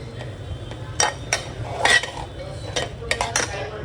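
Soaked moong dal tipped into a pan with onions and stirred, metal spoon scraping and clinking against the pan in a loose, irregular rhythm, close and fairly clear.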